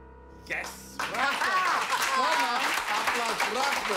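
Audience applause that starts after a short quiet moment, a dense, steady clapping wash with voices talking and calling out over it.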